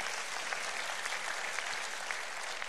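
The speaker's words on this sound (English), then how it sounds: "Give the Lord a hand clap of praise." Church congregation clapping in praise to the Lord, a continuous, even roar of many hands heard from a distance, soft but steady without speech over it.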